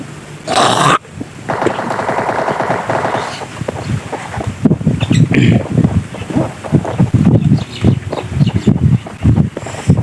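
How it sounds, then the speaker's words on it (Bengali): Strong wind roars and buffets the microphone almost continuously, a loud rough rumble that surges and dips over several seconds. "আমাদের এখানে প্রচুর বাতাস হইতে আছে"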